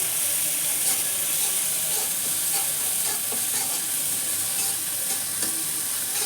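Spice masala fries in a pan with a loud, dense, unbroken sizzle and hiss close up, while stirring adds faint scrapes and light taps throughout.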